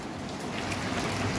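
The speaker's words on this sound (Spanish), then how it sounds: "Fíjense que está lloviendo y mucho" Heavy rain falling outdoors, a dense, even hiss that holds steady through the short stretch, with no voices.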